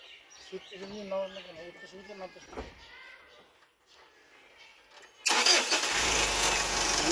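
A vehicle engine starts after voices speak, suddenly roaring into a loud, steady broadband running sound that continues to the end.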